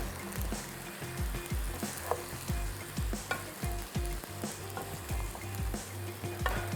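Vegetables for chow mein being tossed with tongs as they fry, a close sizzle punctuated by rapid rhythmic clacks and scrapes of the metal tongs against the pan.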